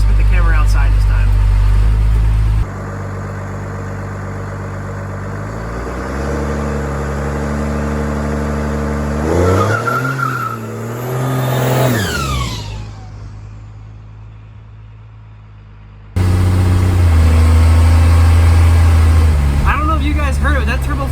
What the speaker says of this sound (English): That turbo flutter at the end was probably the best turbo flutter I've ever heard